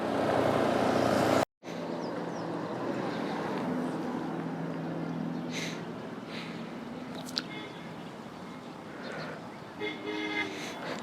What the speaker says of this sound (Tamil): இப்போ மட்டும்தான் இவ்வளோ டிராஃபிக், வெஹிக்கிள் சத்தம், ஆரன் சத்தம்லாம்